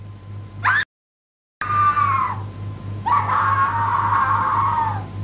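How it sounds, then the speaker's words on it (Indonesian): A woman screams in a 1970 Indonesian classic film, a loud, high wail that cuts off for a moment, returns sustained and wavering, then swells into a second long, anguished scream over a low constant hum. "Bodoh kau berteriak."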